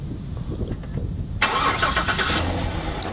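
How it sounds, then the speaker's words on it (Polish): A car engine cranks and catches partway through, then settles into a steady running rumble; the car belongs to a friend and is almost out of fuel. "Engine on."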